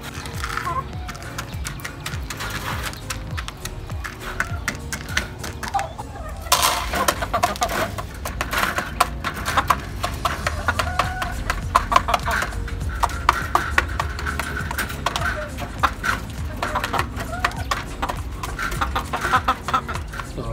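Chickens pecking feed from a container, rapid irregular tapping and scratching close by with occasional soft clucks, while a person talks over it.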